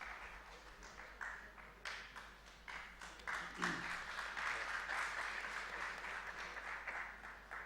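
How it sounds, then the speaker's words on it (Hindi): Applause from the audience at a National Press Day panel session, a steady wash of clapping across the hall that swells midway and keeps going, with faint voices mixed in underneath. "आपको पहले ही तालियां मिल रही है"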